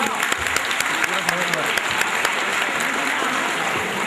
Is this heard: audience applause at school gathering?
yes